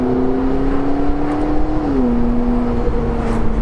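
Steady in-cabin drone of a McLaren 650S Spider's engine and exhaust on the move, loud and continuous, with the pitch easing down partway through, no voices.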